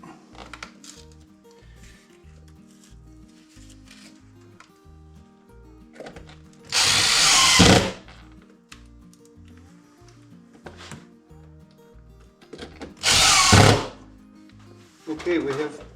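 A power drill fastens hose clamps while an air line is fitted in a workshop, sounding as two loud whirring bursts of about a second each, separated by quieter clicks and handling noise.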